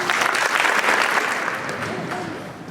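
A crowd at a gym naming dedication applauds loudly, a thick wash of clapping that slowly tapers, with voices audible beneath it.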